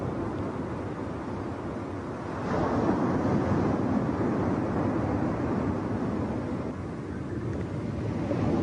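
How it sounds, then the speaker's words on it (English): Ocean waves crash and wash against rocks in a steady, broad roar of surf, with no voices or other sounds. "The relentless waves upon the rocks gradually breaks apart the rocks,"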